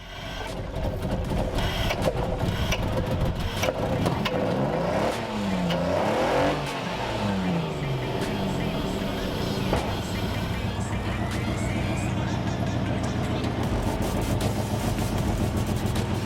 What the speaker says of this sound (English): as you can hear, this thing is not on 6 cylinders anymore